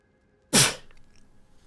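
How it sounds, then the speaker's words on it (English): One sharp sneeze bursts out near the microphone, loud and brief, then fades into quiet room hiss. "I did say I would unmute if I was sneezing more."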